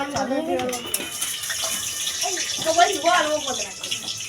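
Running water pours and splashes while something is rinsed during sago papad preparation, a continuous gushing wash with voices, including a child's, talking over it.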